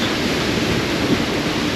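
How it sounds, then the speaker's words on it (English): Storm winds of roughly 20 to 30 mph blast across a boat in St. Catherine Sound, with waves kicking up against the current; a dense, loud roaring rush of wind and water fills the air without pause. "we got blasted by this storm. It's got high winds,"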